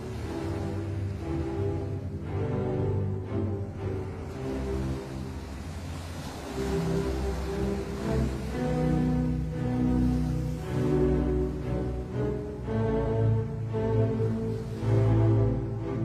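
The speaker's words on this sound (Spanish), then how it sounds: "escuchando el ruido de las olas" Steady roar of ocean waves and surf, a continuous dense wash with gentle swells in loudness, no voices.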